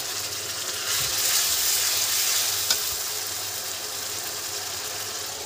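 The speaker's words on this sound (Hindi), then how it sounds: "अब इसमें हम ये देखिए लहसुन अदरक का पेस्ट डालेंगे, और ये टमाटर डालेंगे" Tomato puree hitting frying garlic-ginger paste in a pan while making yogurt chicken, giving a steady broadband sizzle with a soft stirring clatter, fairly close and continuous with no voices.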